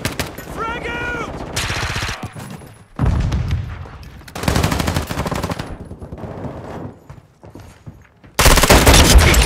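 Video game gunfire rattles in bursts of automatic fire and separate shots, loud and close, with gaps between volleys and game voice callouts heard in between.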